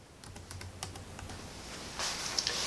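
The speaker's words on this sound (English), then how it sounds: "You're gonna come down to the bottom to your search bar and type in the word updates." Quick keystrokes on a computer keyboard as a word is typed into a Windows 11 search bar, a short run of light clicks close by with no talking.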